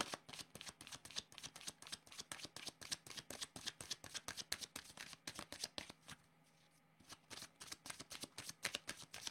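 Tarot cards being shuffled, a fast run of crisp riffling slaps that continues steadily with one brief pause partway through, close and fairly quiet, with no voices.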